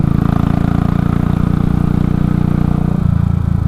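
A Royal Enfield Classic 500 motorcycle engine runs steadily nearby, riding uphill, with a throbbing, pulsing low rumble, shifting pitch slightly near the end.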